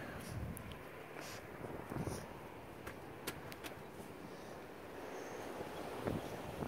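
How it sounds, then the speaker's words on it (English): Wind buffets the microphone in low, uneven gusts, with a few sharp clicks and thumps scattered across the recording. "pretty windy, huh?"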